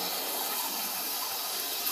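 Water gushes steadily from a tap in a full, continuous rush that fills the whole stretch without a break, with no voices over it.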